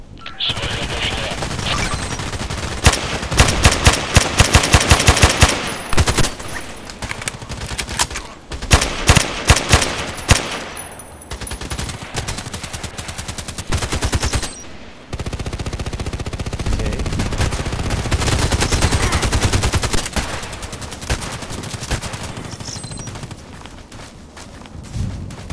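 Bursts of AEK-971 rifle fire in the shooter game Contract Wars, loud and close, in rapid volleys with short pauses and a few quieter gaps between, alongside footsteps.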